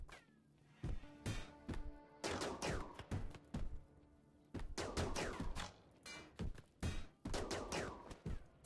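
Gunfire from the video game RimWorld: bursts of sharp shots in irregular volleys, some rapid and clustered, others single, loud and close with no talk over them.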